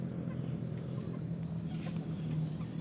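Native chickens cluck softly at a distance in a farm yard, a faint, continuous low murmur of fowl sounds over background noise.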